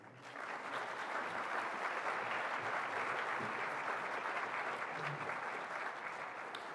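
An audience at a Bowling Green State University conference keynote gives sustained applause, a broad wash of many hands clapping that swells in and holds at a steady level.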